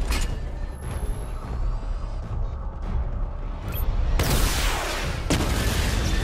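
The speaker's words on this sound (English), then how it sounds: "Missile barrage level 1 ready." Batmobile missile barrage in Batman: Arkham Knight unleashes rapid launches and whooshing bursts, a continuous loud rumble with sharp bright flares of fire near the middle and end.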